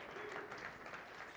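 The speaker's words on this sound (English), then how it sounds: "give her a round of applause" An audience at a large IT security conference applauds a speaker taking the stage, a soft, steady spread of clapping from a crowd heard at a distance.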